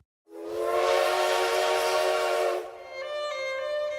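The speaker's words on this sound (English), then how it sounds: "Please turn the page every time you hear the sound of the steam engine train." A steam engine train whistle blows one long, loud, steady blast that then shifts to a slightly different tone, standing alone.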